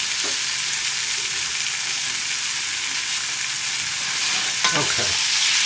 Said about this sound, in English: let's just saute this